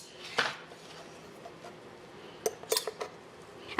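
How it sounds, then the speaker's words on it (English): Small clinks and taps of a metal tablespoon scooping flaxseed in a kitchen, a few sharp clatters against a container standing out over a quiet background, close and fairly faint. "let's go ahead and measure out a tablespoon of our flaxseed"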